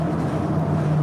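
Steady low engine drone and road rumble inside a moving bus, a continuous close hum with a constant pitch and no talking.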